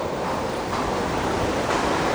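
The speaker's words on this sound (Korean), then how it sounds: "훨씬 더 바다 소리를 가깝게 들을 수가 있죠" Steady wash of sea waves surging nearby, heard from a cruise ship deck at Mystery Island, Vanuatu, a continuous broad hiss and rumble with no voices.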